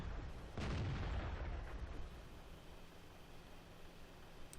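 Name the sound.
tank gun fire from video game World of Tanks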